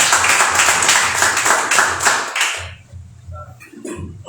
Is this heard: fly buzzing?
no